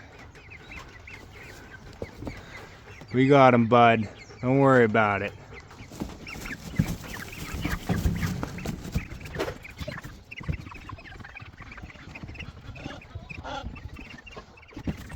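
Young broiler chicks being moved to pasture on a homestead give a couple of loud, close bursts of clucking calls, followed by quieter fowl sounds and shuffling while people talk nearby.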